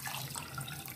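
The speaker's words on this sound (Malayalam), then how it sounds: "അതിനുശേഷം വെള്ളം ഒഴിച്ചു കൊടുക്കുക." Water pours steadily into a pan of sugar to make syrup for badusha, a short, quiet, continuous splash and trickle.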